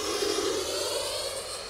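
A high, steady whine of a Freewing Venom V2 90mm electric ducted-fan RC jet with a 1450kv outrunner motor roaring at speed, loud and close, with no voices.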